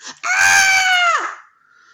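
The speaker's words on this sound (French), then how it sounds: "le petit fantôme entendit un cri de terreur derrière lui" A single loud, sustained high-pitched scream of terror, a sound effect in a children's ghost story, rises sharply, holds for about a second, then drops off, followed by quiet.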